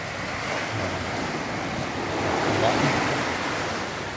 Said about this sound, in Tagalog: Medyo rumaragasan na yung tubig.